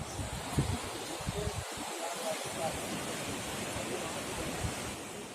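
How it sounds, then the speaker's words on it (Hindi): Water rushes between marble rocks at the Dhuandhar waterfall in Bhedaghat, a steady broad roar filling the whole clip, with brief low thumps early on and no pause in the flow. "यहाँ पे देख सकते हैं कि संगमरमर की चट्टानों के बीच से पानी निकलता हुआ"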